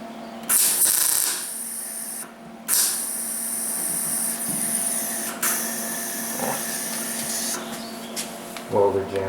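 A welder working on a trunk patch panel of a 1977 Camaro Z28 gives a steady, loud buzzing hiss in long stretches, broken by brief gaps and a final sputter.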